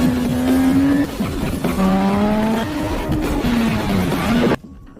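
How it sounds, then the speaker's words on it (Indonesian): A car carrying a heavy load is driven hard in a film scene from The Italian Job, its engine whining as it climbs and shifts through gears over constant road noise, before cutting off abruptly. "Stella mencoba mobilnya dengan beban yang dimuat"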